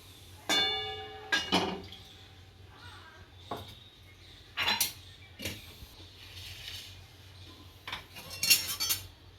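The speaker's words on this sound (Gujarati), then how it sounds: "સેવૈયાને ઘીમાં શેકી નાખશું" Vermicelli is roasted in ghee in a pan for seviyan kheer. Sparse metal clinks and scrapes of a spoon stirring stand out over a quiet, faintly humming background.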